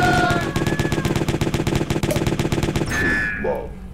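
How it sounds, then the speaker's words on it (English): Rapid automatic gunfire in the PC indie game Jazzpunk, a fast even stream of loud close shots lasting about three seconds before cutting off into a tonal game sound. "I'm totally shooting him."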